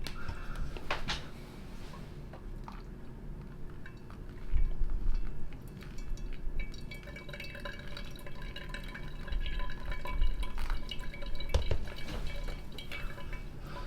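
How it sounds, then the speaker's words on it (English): Water pours gently and steadily in quiet spurts over coffee grounds, with soft trickling and faint glassy clinks, close by in a calm room. "we're pouring in increments to try to keep the level of the water at a specific point"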